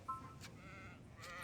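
A single sheep bleat in the Black Desert video game, a brief nasal cry near the start followed by a fainter second call, heard alone against quiet ambient background.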